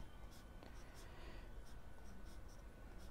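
Pencil or pen sketching a simple house shape on paper, a soft steady scratchy scraping with a few quicker strokes, close and quiet throughout.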